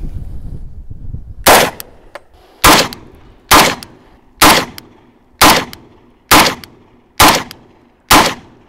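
An AMT AutoMag 3 pistol fires .30 Carbine rounds from an 8-round magazine, eight loud sharp shots at a steady rhythm about one second apart, each ringing briefly outdoors.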